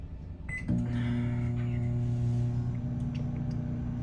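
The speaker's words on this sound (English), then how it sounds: "It's because I'm using the microwave." A microwave oven starts up to melt chocolate, a brief click and beep followed by a steady, close electric hum that keeps running to the end.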